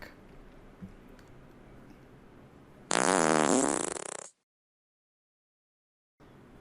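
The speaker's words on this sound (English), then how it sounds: "Let's make the rubber toy fart." A cartoonish rubber toy fart sound effect blares for about a second and a half, loud and buzzy, following quiet room tone and ending in abrupt silence.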